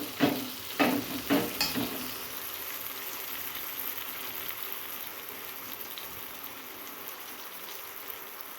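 Masala sizzles in oil in a pan on a lowered gas flame, opening with a few sharp stirring scrapes before settling into a steady, even frying hiss that continues alone without talk.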